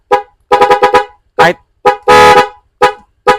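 A car horn, wired without a relay, honks in a run of short bursts: four quick toots, then single blasts and one longer held honk, loud and close with no other sound.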